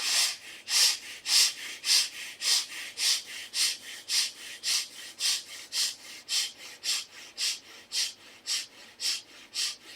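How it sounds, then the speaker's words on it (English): Quick, short, gentle breaths during a breathing exercise, a steady train of about twenty rhythmic airy puffs over ten seconds, close and fairly loud with no talk. "you start breathing quick, short, gentle breath, expansion and contraction of the chest"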